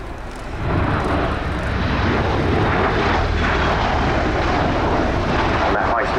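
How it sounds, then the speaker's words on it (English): Boeing CV-22B Osprey tilt-rotor aircraft of the US Air Force flying an air show display at RIAT 2023, a loud continuous broadband engine and rotor roar that swells in after half a second and holds steady throughout. "Absolutely fascinating aeroplane, this. A tilt rotor, and we'll see that demonstrated during this display."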